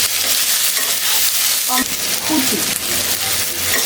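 Black cumin and dried chillies crackle loudly in hot oil as a tempering, a dense, bright, continuous sizzle heard close, with a short spoken word partway through.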